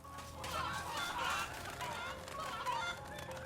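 Chickens clucking in the video game MediEvil, a short run of mid-pitched clucks over steady game background sound, moderately loud and fairly close.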